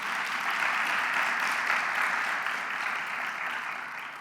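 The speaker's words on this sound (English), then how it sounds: "Give him also a round of applause." An audience at a launch event gives a round of applause, a full, steady wash of clapping that holds strong and then begins to taper slightly toward the end.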